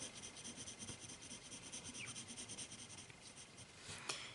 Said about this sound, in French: Donc l'ombrage je vais le faire au crayon.